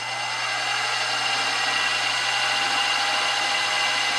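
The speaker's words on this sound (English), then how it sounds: "hit all these spots with the center drill" A center drill cutting starter holes into a radial engine cylinder, a steady high-pitched machine whine with a constant low hum beneath, unbroken and close throughout.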